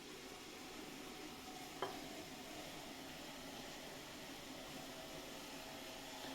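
Oil heating in a hot pan for a greens sambar tempering gives a steady, quiet sizzle that runs through the whole stretch, with one short clink near the start and no voices.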